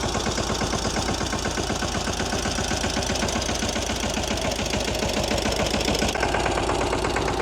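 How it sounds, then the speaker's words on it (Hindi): A loud, steady diesel tractor engine on a water-supply tractor rumbles at idle with a fast, knocking chug, running continuously and close by. "पीछे देखो ट्रैक्टर आ लिया पानी की सप्लाई वाला"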